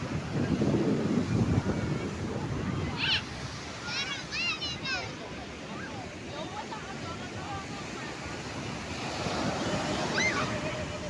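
Ocean surf rolls and crashes steadily against the shore as a fishing boat comes in to land, with wind buffeting the microphone and voices talking and calling out over the waves.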